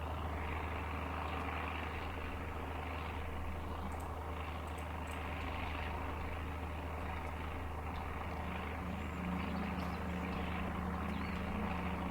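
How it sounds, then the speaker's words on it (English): A video game helicopter gives a steady, droning rotor-like engine hum with a low constant rumble, continuous and fairly close, with no talking over it. "Sounds a bit like a helicopter"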